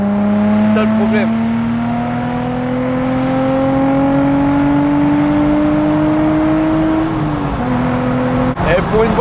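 A Nissan 350Z cabriolet with over 180,000 km holds a loud, steady engine drone whose pitch slowly climbs as the revs build, then dips briefly before a short blip near the end. The exhaust stays close and continuous throughout.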